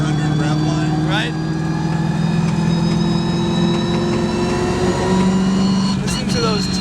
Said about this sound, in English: Listen to those turbos